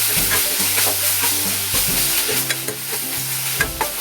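Chopped tomato goes into a frying pan of paneer kurma and is stirred, giving a steady close sizzle broken by repeated scraping strokes of the spoon.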